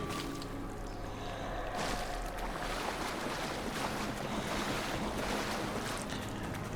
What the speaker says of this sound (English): I hate being waist deep in water